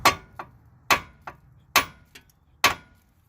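Hammer blows striking the outer tie rod end on a Toyota Highlander, four strong metallic hits at a steady pace, each followed by a lighter rebound tap, close up in a quiet workshop.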